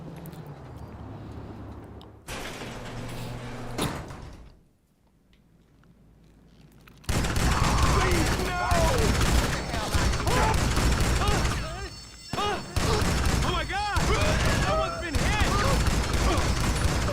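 Shotgun blasts in GTA 5 Online come in heavy, close booms, a brief volley early on and then a dense, sustained barrage of repeated shots layered over busy game noise.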